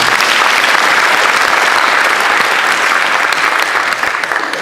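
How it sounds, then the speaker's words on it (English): A crowd at a launch event gives a sustained round of applause, dense and loud from start to finish, easing off slightly at the end, with no speech over it. "Let's give them a round of applause."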